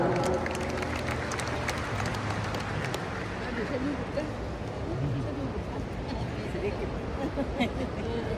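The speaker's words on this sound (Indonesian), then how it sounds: "Sekali lagi tepuk tangan." Applause fills a wedding reception hall, a steady crowd clapping throughout at moderate level with murmuring voices mixed in.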